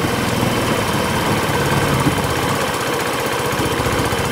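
A 150cc GY6 scooter engine idles up close, a loud, steady, rhythmic putter with fine mechanical chatter that holds an even pace throughout.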